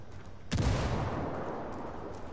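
A frag grenade goes off in the video game Ghost Recon as a single sharp blast, its rumbling boom trailing off through a faint background of game noise.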